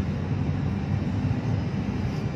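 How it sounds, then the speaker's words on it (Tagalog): A helicopter passes overhead, a steady, loud broadband rumble that stays constant throughout with no talk over it. "Helicopter"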